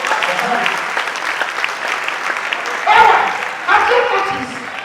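An audience at a comedy show claps in a steady, fairly close patter, with voices talking and laughing over it and two louder surges near the end.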